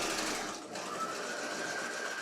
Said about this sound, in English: I'll back tack right there, and then continue stitching down to the bottom